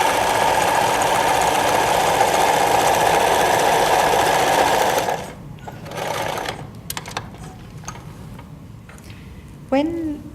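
A sewing machine stitching an elastic waistband held in place with sticky tape, a loud steady whirring run for about five seconds that then stops, followed by faint handling noises.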